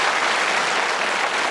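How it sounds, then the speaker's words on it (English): A game show studio audience gives steady, dense applause that stays at an even level throughout the short burst, with no voices above it. "That's worth a round of applause."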